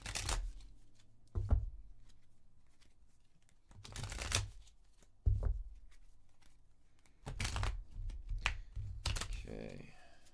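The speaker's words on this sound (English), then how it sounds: "we're going to go ahead and pull some oracle cards here and see what comes up" Oracle cards are shuffled by hand in several separate bursts of quick riffling and flicking, close and crisp, with quiet pauses in between.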